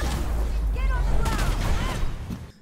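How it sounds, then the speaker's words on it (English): In the game Predecessor, the character Belica gives a short grunt followed by a deep, hollow booming explosion as she punches the ground, rumbling loudly and fading out at the end. "The sound effect is a little bit of Belica grunting followed by a kind of hollow explosion."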